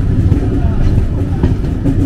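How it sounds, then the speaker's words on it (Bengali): A train pulling into Farakka Junction station, a loud continuous low rumble and rattle of wheels and carriages heard from on board, with speech over it. "ট্রেন ঢুকছে ফারাক্কা জংশনে।"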